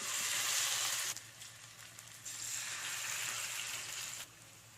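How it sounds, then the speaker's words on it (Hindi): Fish pieces fry in hot oil for a crispy Hyderabadi-style fish fry, giving a steady close sizzle that surges loudly, eases for a moment, then swells again. "तेल गरम हो चुका है, धीरे से मछली के पीसेस डाल दें।"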